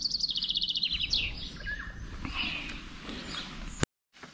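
An injured bird found on a road chirps in quick repeated high peeps at first, then thinner scattered calls over low rustling and handling noise, ending in an abrupt bump and brief silence.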